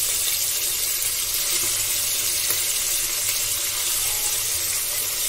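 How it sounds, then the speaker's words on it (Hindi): Goat liver frying in oil inside a pressure cooker, a steady, close, even sizzle that continues without break and without talk. "इसमें जो मैं इसे कलेजी को मैंने तेल में डाल दिया है। अब मैं इसे फ्राई कर लूँगी।"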